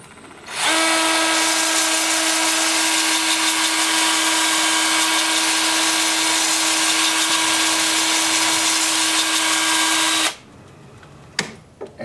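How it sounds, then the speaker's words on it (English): Wood lathe turning at 350 rpm with a drill spinning a sanding pad against a wooden bowl, a loud steady whine with a strong hum that starts abruptly, holds for about ten seconds and cuts off, then a few light knocks. "the lathe is spinning forward at 350, and my drill is spinning forward as well"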